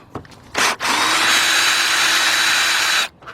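A power tool with a 10 mm deep socket spins off a bolt on a 2008 Dodge Avenger 2.4, one loud close whirring burst of about two and a half seconds after a brief blip, with no talking.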